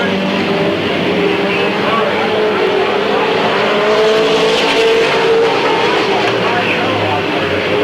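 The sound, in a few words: stock cars racing at Midvale Speedway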